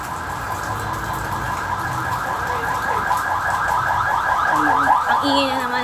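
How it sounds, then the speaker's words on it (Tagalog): A fire truck's wailing siren cycles steadily in the distance, its rising and falling tone persisting throughout, with faint background noise and a brief higher warble near the end. "Ang ingay na naman ng bombero sa amin."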